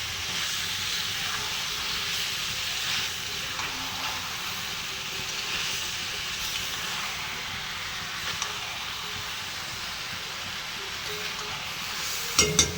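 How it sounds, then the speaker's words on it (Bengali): Duck meat frying in a pan, a steady broad hiss and sizzle continuing evenly throughout at moderate level, with a couple of small knocks near the end. "এই মাংসগুলো সব দিয়ে দিচ্ছি খুব ভালো মতন কষাবো"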